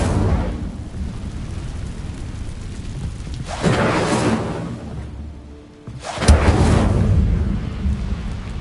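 Whooshing fiery bursts of the Incendio fire spell in Hogwarts Legacy on PS5, two loud roaring flares rising out of a dense continuous rumble, with a brief dip between them.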